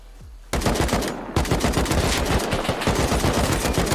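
Automatic gunfire crackles through a raid on a compound in a Rust-style survival game: after a brief quiet start, rapid bursts of loud, close shots run almost unbroken with a short pause near the middle.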